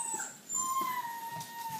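A young puppy from a litter whimpers and howls softly, thin high wavering cries drawn out over a quiet background, close and alone with no talk.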